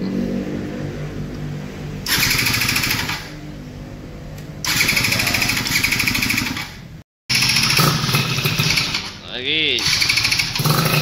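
A Yamaha F1ZR motorcycle's electric starter cranks on a weak, drained battery in several long, loud grinding bursts with short gaps between them, the engine not catching.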